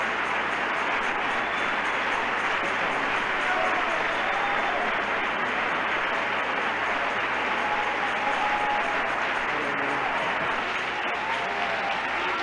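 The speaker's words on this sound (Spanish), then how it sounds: "le vamos a dar un aplauso, pero bien fuerte al Señor" A church congregation claps loudly and steadily for the full stretch, a dense sustained wall of applause with faint voices mixed in.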